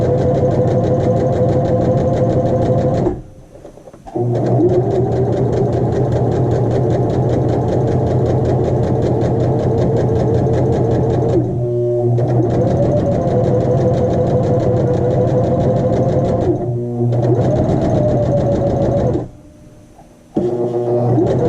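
A sewing machine stitches steadily through a 12-inch muslin practice square, running in long continuous bursts with a fast mechanical whir, pausing briefly three times before resuming, loud and close with no talk.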